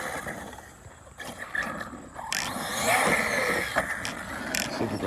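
Overpowered RC car tearing around a dirt bike track, its electric motor whining and revving up as it accelerates, with gritty rumble and roar building toward the end, loud and fairly close.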